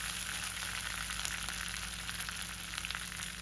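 Mustard seeds spluttering in hot oil for a crab thoran, a quiet, continuous sizzle with faint scattered pops and no voices.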